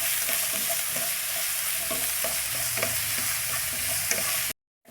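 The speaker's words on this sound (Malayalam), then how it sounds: "പച്ചമുളക്, വെളുത്തുള്ളി, ഇഞ്ചി പേസ്റ്റ് ഒന്ന് ചൊയ വിട്ടാൽ മതി" Green chili, garlic and ginger paste fries in a pan, a steady close sizzle with repeated stirring scrapes throughout before cutting off abruptly near the end.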